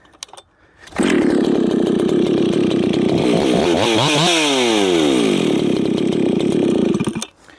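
A ported Jonsered 670 Champ chainsaw engine roars close and loud for several seconds. Its pitch swoops up and down as the throttle is worked, then it cuts off abruptly, with no talking.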